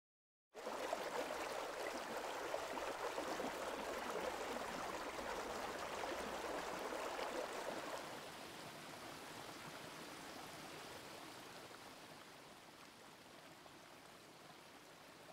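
A river flows in a steady rushing wash of water, loud at first and then easing to a softer, constant stream that continues alone with no voices.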